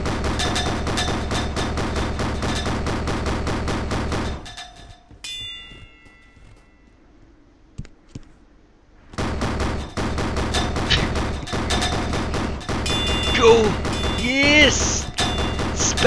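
Relentless rapid gunfire from a player spamming shots with infinite ammo in the 2D shooter game Boring Man, a loud dense stream that drops out for several seconds before resuming just as hard.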